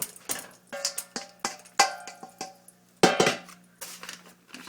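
Buttery microwave popcorn scooped out of its bag into a hot pan on the stove, heard as a series of close, sharp clinks and scrapes with irregular spacing and small rustles between.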